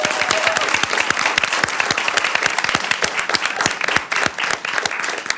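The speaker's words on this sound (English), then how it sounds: "Give them a round of applause" A room at a school board meeting breaks into loud, sustained applause for a Virginia Class 5 high school state champion football team, with dense, rapid clapping from many hands close by that continues throughout.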